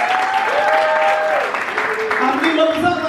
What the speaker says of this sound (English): Let's give him a very big hand clap.